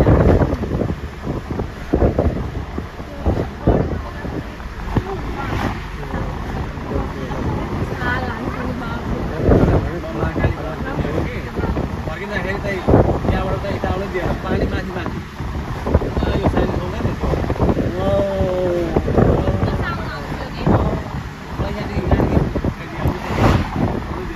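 Strong gusting wind buffets the microphone beside a door, with water and boat sounds nearby and people talking intermittently underneath.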